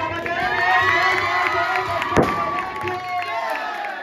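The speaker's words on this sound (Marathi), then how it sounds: "टाळ्या वाजवा एकदा" A crowd cheers and shouts at a Dahi Handi festival in Chinchpada, Kalyan, as a Govinda troupe builds a seven-tier human pyramid. The loud, steady roar is full of raised voices and whoops, with a sharp burst near the middle.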